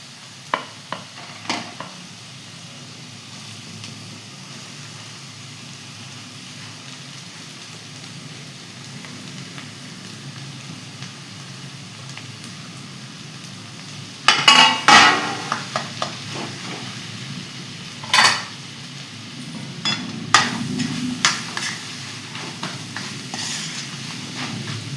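Boiled potatoes with salt are stirred in a frying pan, a low sizzle with scattered scraping and clinking of a spoon, louder clattering bursts midway and toward the end.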